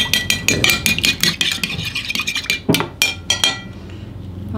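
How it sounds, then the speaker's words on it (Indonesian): Two eggs are beaten in a bowl with a fork, giving a fast, close rhythm of bright clinking taps against the bowl that slows and stops near the end. "Kita kocok lepas."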